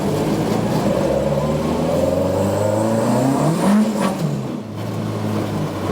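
A Mk2 Ford Escort on worn rear tyres accelerates hard with its back wheels spinning, the engine note rising and wavering loudly and close before dropping away near the end.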